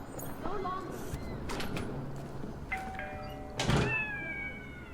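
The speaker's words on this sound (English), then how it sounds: "Cat." A cat meows several times in short rising and falling calls, fairly close, with a faint mechanical whir and low room noise underneath.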